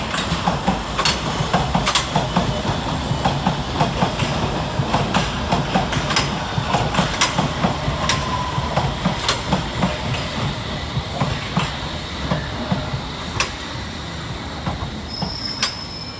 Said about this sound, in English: S8 stock 21545 and 21546 with a Hammersmith and City Line service from Hammersmith to Moorgate